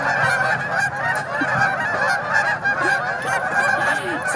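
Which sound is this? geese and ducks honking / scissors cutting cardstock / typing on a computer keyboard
geese and ducks honking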